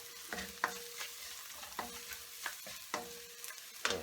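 Potato and spinach with spices and red chili powder tossed in a hot pan, a steady sizzle broken by several sharp scraping stirs at irregular intervals, close and clear with no talking.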